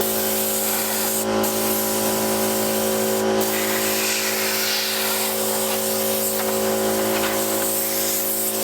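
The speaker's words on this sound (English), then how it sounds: "before that we're going to blow all this out with the air compressor" An air compressor nozzle blasts dust out of an 18-foot Boston Whaler boat during a refit, a loud continuous hiss of rushing air with two brief breaks.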